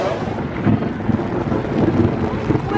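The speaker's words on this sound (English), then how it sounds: "we're right in the midst of the storm" A rainstorm at an outdoor theme park, the Wizarding World at Disney World, roars as loud steady wind-driven rain with microphone buffeting and a dense low rumble throughout.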